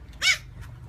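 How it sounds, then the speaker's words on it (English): A single short dog bark, moderately faint, over low background hum, with no talk. "can you bark louder?"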